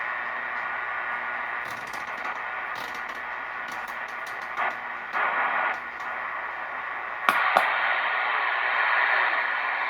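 Steady hiss of CB radio static on channel 38 fills the air, with brief crackles and bursts of RF interference popping through during daylight; no voices come through.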